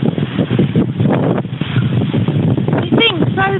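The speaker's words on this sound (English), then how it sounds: "Very windy." Strong gusty wind buffets the microphone during a UK storm, a broad low roar surging and dipping continuously, with a voice speaking briefly over it near the end.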